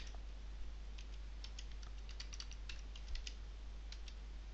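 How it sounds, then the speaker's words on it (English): Keys on a computer keyboard are typed in quick, irregular bursts of light clicks, close and faint, over a quiet steady hum. "So we'll just type in some values here."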